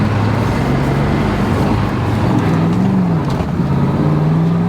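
A Pontiac Firebird's engine runs close and loud with a deep, rumbling idle. The pitch wavers and rises briefly in light revs.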